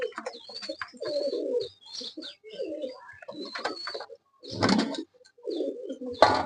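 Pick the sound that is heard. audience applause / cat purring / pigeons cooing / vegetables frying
pigeons cooing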